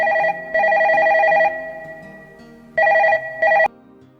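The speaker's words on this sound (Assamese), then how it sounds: "কিয় ফোনটো নধৰ কিয়?" An old-style telephone bell rings loudly and close in two bursts, a long trill followed by a pause and then a shorter double ring that cuts off abruptly.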